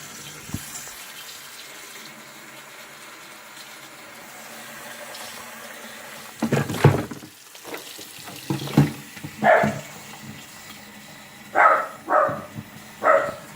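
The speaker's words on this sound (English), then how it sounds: "you got to fill it with warm water" Tap water running into the tank of a Rug Doctor Pro-Deep carpet cleaner, filling it with warm water; a low steady flow with several louder splashing bursts toward the end, no talk.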